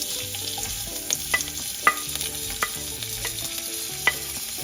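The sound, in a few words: onions frying in a pan for horse gram bassaru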